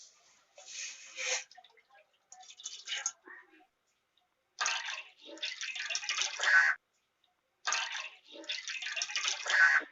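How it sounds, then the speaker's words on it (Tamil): Three cups of water poured one after another from a small cup into a cooking pot, each a steady splashing pour a few seconds long with short pauses between them. "சின்ன கப்பில் 3 கப் அளவு தண்ணி ஊற்ற போகிறேன்"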